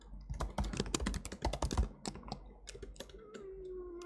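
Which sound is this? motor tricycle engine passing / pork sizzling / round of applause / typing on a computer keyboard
typing on a computer keyboard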